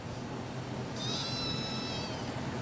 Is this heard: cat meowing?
yes